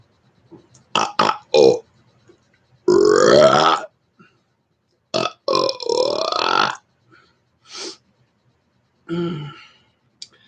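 A man lets out a series of burps, quick short rapid ones in clusters alternating with long, drawn-out, loud monster burps, close and alone against silence.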